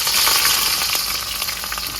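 Bay leaf, small dried chillies and chopped onion frying in oil, a dense steady sizzle filling the short stretch, loud and close with no talk.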